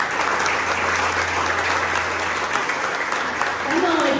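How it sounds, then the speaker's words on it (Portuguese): A church congregation at a Sunday-morning service claps together in sustained, dense applause that fills the room steadily, with a voice speaking over it. "Vamos aplaudir o Senhor nessa manhã."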